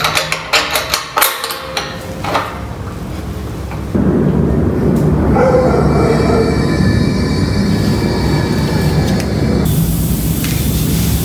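A pressure relief valve on a stainless steel pressurizable fermenter filled nearly to the top with water releases a steady hiss, starting after a few clattering knocks and continuing loud and continuous, shifting slightly near the end.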